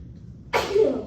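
A single sharp sneeze bursts out suddenly after a quiet pause, close and fairly loud, during a clinical case review session.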